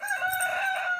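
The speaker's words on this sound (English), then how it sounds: "And right now we have an injured chicken in here." A rooster crows inside a cold-weather chicken coop, one short, loud, close cock-a-doodle call with a strained tone, heard alone with no talking.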